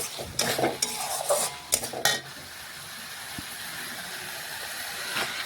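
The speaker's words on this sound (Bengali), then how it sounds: "আমি একটু মটন কষে নিচ্ছি" Mutton with spices being stir-fried in a pressure cooker: quick, loud scraping and clattering strokes of a spoon against metal for about two seconds, then a quieter, steady sizzle.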